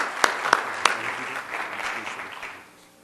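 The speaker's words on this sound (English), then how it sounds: "would you join me with a warm round of applause for Mr. Gent and the time that he spent" An audience at a community evening event claps after a guest's talk: a few sharp early claps swell into a warm round of applause that fades away near the end.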